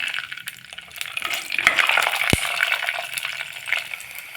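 Fenugreek and cumin seeds splutter in hot oil as the base for an aloe vera curry, giving a dense, close crackle of quick pops with one sharper snap partway through.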